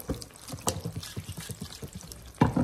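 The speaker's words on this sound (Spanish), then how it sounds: "Le voy a poner tantitita agua nada más a la jarra, a la licuadora, para quitar el exceso de chilito de adobo" Water trickles and pours into a blender jug to rinse out leftover chile adobo sauce, a short close splashing dribble that swells into a louder pour near the end.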